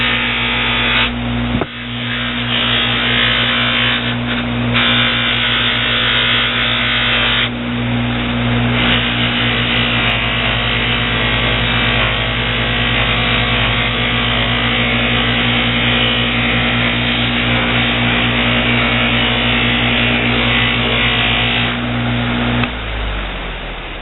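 A small buffer steadily polishes a hand-sanded knife handle on a blade made from a planer blade, its motor humming loud and constant for about twenty-two seconds before spinning down at the end.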